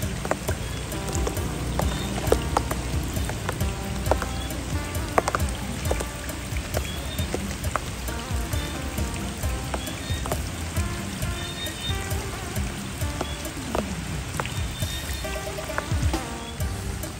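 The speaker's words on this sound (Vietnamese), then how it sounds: "Trời mưa quá mưa. Sớm giờ mưa quá trời." Heavy rain pours steadily outdoors beside water where fishing nets are being set, a dense, continuous hiss with scattered drops and splashes sounding close throughout, no talking.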